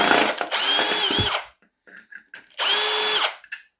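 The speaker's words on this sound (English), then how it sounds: "let's get these screws out and get this thing mounted" A drill driver backs screws out on a woodturning setup: two close, loud whirring runs separated by a pause with faint clicks.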